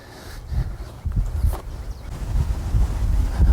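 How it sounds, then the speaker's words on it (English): Strong gusting wind buffets the microphone on a golf course, rising and falling in low rumbling surges with a steady roar underneath and no voices. "the wind is really, really whipping right now"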